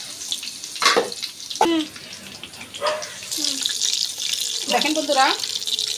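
Chicken shashlik pieces, including a gram-flour coated batch, fry in hot oil, giving a steady broadband sizzle with bursts of crackle as pieces go in, while a voice speaks briefly over it.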